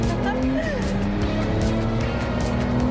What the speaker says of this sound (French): Porsche 911 Turbo de 600 chevaux